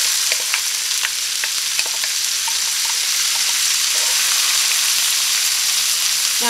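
Onions frying in a pan with bacon grease and butter, a loud, steady, close sizzle with small crackles and occasional stirring sounds.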